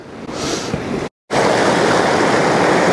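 Rushing water of a Dartmoor brook tumbling over small falls fills the air with a loud, continuous broadband roar, briefly cut off before resuming just as strongly.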